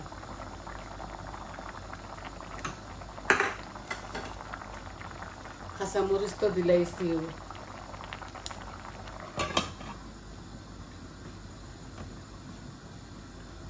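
Meat curry bubbling at a boil in a pot after hot water is poured in, a low steady simmer with a few sharp utensil clinks while someone talks over it.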